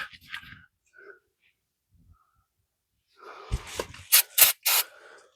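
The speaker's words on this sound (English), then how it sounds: "I think I want to spray some anti-seize up there so the bolts don't break" Anti-seize sprayed from an aerosol can onto the axle bolts of a Jeep Dana 30 front axle: three short, loud hissing bursts close by, following a longer stretch of rustling and handling noise.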